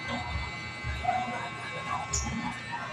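A dog whimpers and gives small yips, brief soft bursts scattered over a low background, with a person talking nearby.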